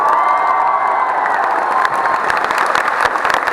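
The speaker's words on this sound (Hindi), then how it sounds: "एक बार जबरदस्त तालियां होगा।" A crowd at a teachers' meetup in Patna applauds and cheers loudly, with whoops and shouts riding over continuous clapping from start to finish.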